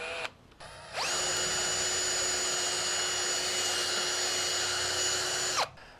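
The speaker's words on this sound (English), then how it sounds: "We got to drill the bottom of those posts so that they can slide over those bolt heads" A power drill with a big 7/8 bit bores into the bottom of a wooden porch post, a short start followed by about five seconds of steady, loud whining drilling that then stops.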